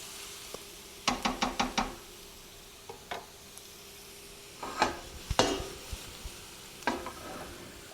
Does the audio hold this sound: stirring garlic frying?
yes